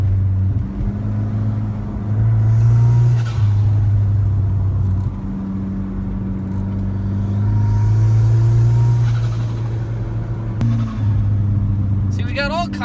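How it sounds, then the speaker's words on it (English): Saab 9-3 Turbo engine braking in a low gear, a steady low droning hum that rises and falls slightly in pitch as the car slows, close and continuous under the cabin, with a voice talking over it near the end. "So I just pop it into a low gear, and then I can use the engine to compression brake as well."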